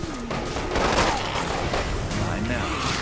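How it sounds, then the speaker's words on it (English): A fire grenade bursts in Resident Evil Umbrella Corps, a loud dense crackling blast with roaring flames and rattling noise that stays close and sustained, while a player talks over it. "I'm throwing a fire grenade on the typewriter right now."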